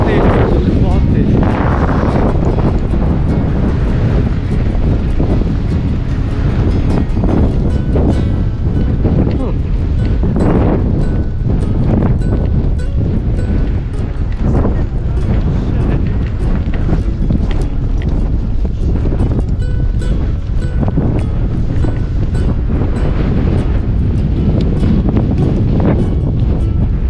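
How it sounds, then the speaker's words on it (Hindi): Strong, steady wind buffets the microphone for the whole stretch, a dense low roar with gusty surges, at an exposed open site near the Tower of Silence in Chilpyk, Uzbekistan. "बहुत तेज हवा चल रही है, बहुत तेज।"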